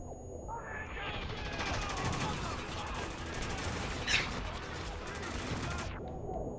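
Sustained heavy gunfire in the Spec Ops: The Line video game, a dense roar of automatic weapons and shots lasting several seconds at close range, with a sharper burst near the end before it cuts off.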